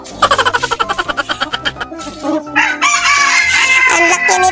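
A loud rooster crows nearby, a drawn-out cock-a-doodle-doo, preceded by a rapid series of pulsing clucks building up to it.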